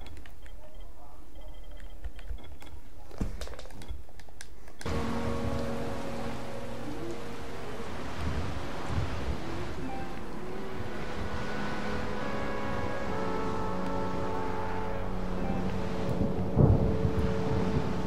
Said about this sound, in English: Oh yes, rain at daytime at last.